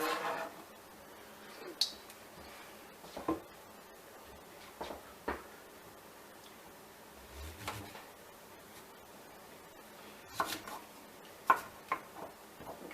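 Zucchini being chopped on a cutting board for sweet pickle relish gives sparse, faint, irregular knife taps, scattered across a quiet background.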